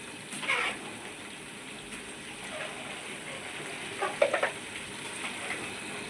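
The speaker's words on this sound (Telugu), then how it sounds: "బాగా వేగనివ్వాలి" Green chilies, mint leaves and coriander fry in oil for a spicy chicken dum biryani, giving a steady close sizzle with a couple of louder bursts of crackling and stirring, with no talking.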